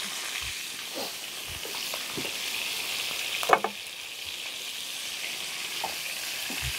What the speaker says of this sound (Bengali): ফুলকপিটা যেহেতু সেদ্ধ করা না তুমি একটু ভালো করে ভাজবে